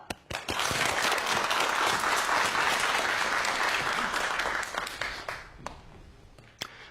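An audience at a Korean science lecture on color applauds to welcome the speaker, a full, sustained burst of clapping that swells quickly, holds, then thins out into a few scattered claps.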